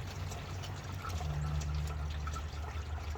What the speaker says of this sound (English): And let the oil start to drain there.